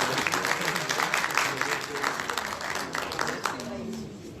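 Audience clapping rises in welcome for a union leader at the launch of a mixed parliamentary front for solidarity tax reform, a dense steady patter that fades near the end while a voice carries on over it.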